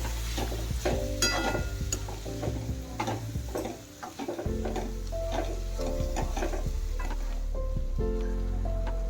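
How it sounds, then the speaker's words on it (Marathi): Coriander and cumin powder sauté in a pan for aloo kofta curry, with rhythmic spoon scraping and clinking over a low sizzle and a steady low hum behind it. "हे सगळे मसाले व्यवस्थित परतवून घ्यायचे"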